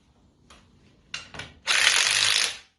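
A torque wrench tightens the front axle nuts on a Jeep YJ trail rig, giving a few short clicks and rattles before a louder, sustained mechanical burst near the end.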